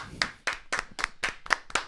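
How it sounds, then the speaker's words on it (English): Hand claps for a guest on a morning talk show, seven distinct sharp claps in a quick, fairly even rhythm, close and dry, with no other sound between them. "let's clap for him."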